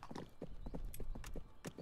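Horse hooves clip-clop in a steady walking rhythm through the medieval game 1428: Shadows over Silesia, clear and close, with no talking over it.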